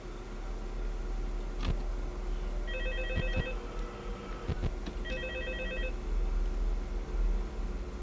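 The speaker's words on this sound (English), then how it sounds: "I want to hear that phone call." A telephone rings in Five Nights at Freddy's 2, two clear electronic ring bursts repeating over a steady background hiss, with no talking.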